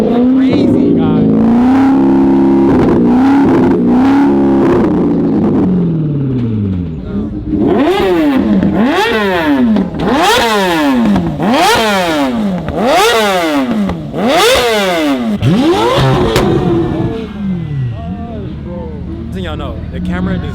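A car fitted with an aftermarket downpipe revs hard at a car meet, repeated loud rising and falling engine blips in quick succession, close and aggressive, over crowd noise.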